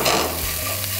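Celery dropped into hot oil with lightly browned garlic and stir-fried, a close, bright sizzle with a brief clatter of utensil against pan, steady and without voices.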